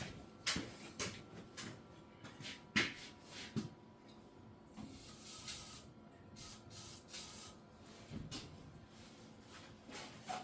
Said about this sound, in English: Let's shoot a little bit of carb cleaner in here.